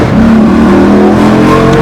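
A Maserati 4200GT, recently brought back to running condition, revs loudly up close, its engine tone steady and strong with no talk over it.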